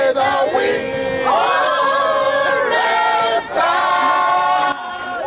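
Ugandan fans at a netball match cheer and shout in a loud, sustained crowd roar after a 57-54 victory over Trinidad and Tobago, with voices rising in waves.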